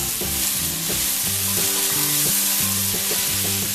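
Soya chunks frying in a pan and being stirred, giving a loud, continuous sizzle with background music underneath.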